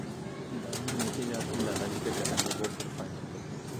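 Soft cooing from breeder pigeons rising and falling through steady background murmur and distant chatter, with faint rustling throughout.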